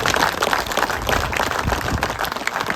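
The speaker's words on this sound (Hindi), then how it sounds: "एक बार प्रवेश वर्मा के लिए भी जोरदार तालियां।" An audience at a village gathering in Jaunti applauds for Pravesh Verma, a dense, ragged burst of many hands clapping, loud and steady for a few seconds.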